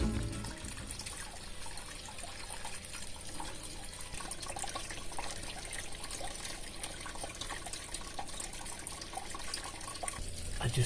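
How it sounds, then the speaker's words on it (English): Tap water runs steadily through a hose at a narrowboat marina, a continuous close trickling and splashing hiss with no talk. "I worked out that there should be like 50 minutes of running the tap."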